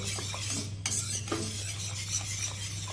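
Khandvi batter stirred continuously in a pan, a soft steady scraping and swishing of a spoon close up, with a faint clink and a constant low hum underneath, no talk.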